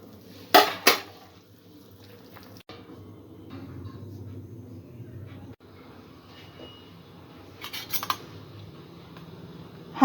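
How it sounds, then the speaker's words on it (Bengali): Boiled chicken for a chicken corn soup being broken into pieces in a metal pot, giving a couple of sharp clinks of utensils against the pot near the start and more near the end over a low kitchen hum. "আমি চিকেনটা পটে ঢেলে নিয়ে টুকরো করে নেব।"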